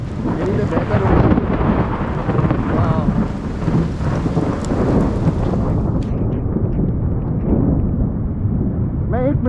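A heavy thunderstorm over Dharamshala brings loud, rolling thunder over steady rain. The thunder booms continuously for several seconds, then fades into quieter rainfall near the end.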